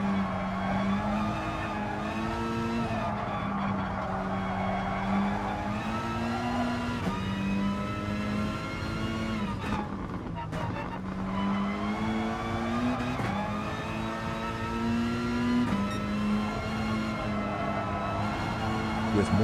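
Race car engine in GT Sport at Spa or Red Bull Ring, revving steadily with rising and falling pitch through gear changes, loud and continuous for the whole stretch with faint tire noise, no talk.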